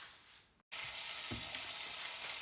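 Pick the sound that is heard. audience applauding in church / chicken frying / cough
chicken frying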